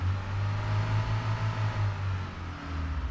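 A truck engine in the video game Arma 3 hums in a low, steady rumble that holds at a moderate level throughout, with no voices.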